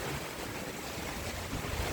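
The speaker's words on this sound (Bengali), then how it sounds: "প্রচণ্ড ঝড় বৃষ্টি" Cyclone Remal storm roaring over coastal Bangladesh, a steady broadband rush of wind and crashing waves with microphone buffeting, loud and continuous with no voices.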